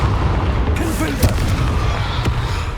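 Confringo spell blast in Hogwarts Legacy, a booming explosive burst with a rumbling low tail beneath other game sounds and a voice calling out, steady and loud throughout.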